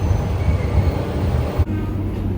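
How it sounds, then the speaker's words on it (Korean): Train pulling into a station in Japan near Sasebo, a steady low rumble of rolling wheels that dips briefly and then carries on as a quieter hum. "기차가 들어옵니다."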